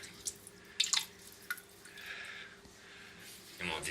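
A bidet in a resort bathroom is switched on and its water runs in soft hissing, dripping spurts at close range, while someone talks over it.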